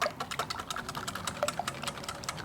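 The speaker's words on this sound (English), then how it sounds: "grab our little whisk, kind of try and break up these little egg yolks" A small whisk taps rapidly against a bowl while breaking up egg yolks mixed with cheese and dill for a salmon quiche, a quick uneven series of light clicks with no talking.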